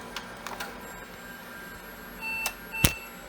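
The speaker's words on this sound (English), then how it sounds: "Okay, it beeps twice" Two short electronic POST beeps from an IBM PC AT near the end, the second sharper and louder, over a low steady machine hum with faint clicks earlier.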